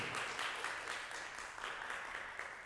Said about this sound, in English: let's give a big round of applause to you, to Mr. Brownlee.